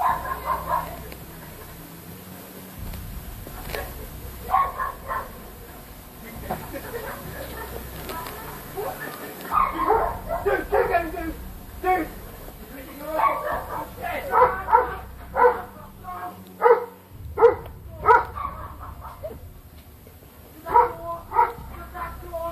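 A family Doberman barks in bursts at an intruder, the barks sharp but somewhat distant and irregular, growing more frequent partway through, heard beneath narration and faint background noise.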